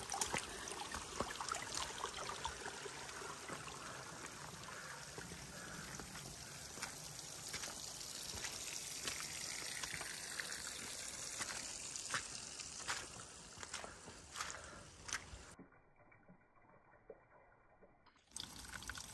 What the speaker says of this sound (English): All little waterfalls.